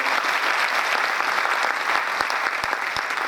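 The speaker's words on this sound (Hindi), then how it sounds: "एक बार जोरदार तालियां रजिस्टर के लिए होनी चाहिए" A seminar audience at a Vestige marketing event claps loudly in a dense, sustained burst of applause that stays steady throughout, with no talk over it.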